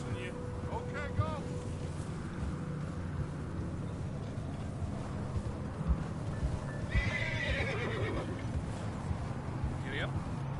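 Horse hooves clip-clop across a Wild West video game landscape with a whinny near the start, while voices talk over the steady galloping and rumbling background.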